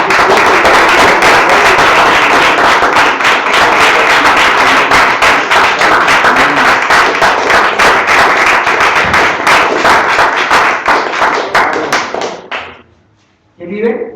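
Church congregation clapping loudly during a Sunday service, dense steady applause with a few voices, tapering off and stopping near the end.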